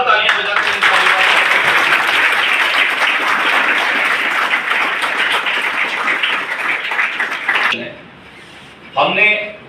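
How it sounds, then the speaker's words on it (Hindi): A large audience at a coaching institute's felicitation event gives loud, sustained applause for achieving students, a dense wash of clapping lasting several seconds before cutting off, followed by a brief voice. "इनके लिए जोरदार तालियां बजाते हैं"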